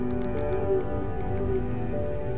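Whale sounds underwater in the game Beyond Blue, a soft series of quick clicks over a steady low drone and faint tonal calls.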